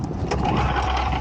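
A Cub Cadet 3X snowblower engine is pull-started on choke, giving a brief low mechanical rumble and churn as the recoil cord is yanked, close and fairly loud, with no clear catch to a running idle.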